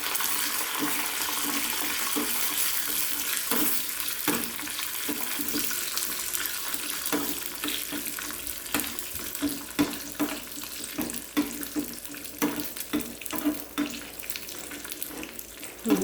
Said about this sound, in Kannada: ಸ್ವಲ್ಪ ತುಪ್ಪದಲ್ಲೇ ದ್ರಾಕ್ಷಿ ಗೋಡಂಬಿ ಕರ್ದು ಹಾಕಿಬಿಡಿ